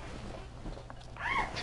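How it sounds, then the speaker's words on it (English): Cats meowing inside a house, a couple of short, high-pitched meows near the end over a low background hum, with no talking. "Sounds like you got fucking crazy cats in your house."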